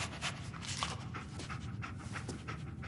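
A dog panting in Fallout 4, quick steady breaths repeating at a close, soft level throughout, alone without speech.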